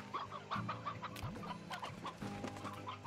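A rooster in the video game Slime Rancher clucks in a quick series of short, close calls, with several overlapping fowl sounds in a busy rhythm.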